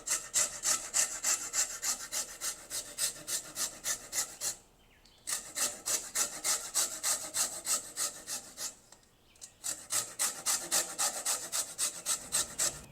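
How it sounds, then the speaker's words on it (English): Lemon peel is rubbed on a fine grater for zest, making a rapid rhythmic rasping in close, even strokes, broken by two short pauses, with no talking. "grate a lemon peel using a fine grater to get the lemon zest"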